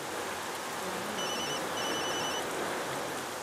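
A faint electronic phone ring chirps twice in short repeated bursts over a steady hiss of background noise.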